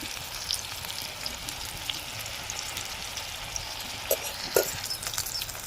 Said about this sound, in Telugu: మంచిగా నూనెలో వేగాలి ఈ ఉల్లిగడ్డ